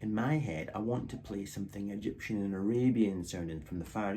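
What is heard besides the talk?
No distinct noise like a dog, phone or traffic.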